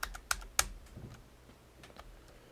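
Clicky taps on a computer keyboard come in a short irregular run of sharp keystrokes, with a few louder presses at the start and softer ones after, and no talk.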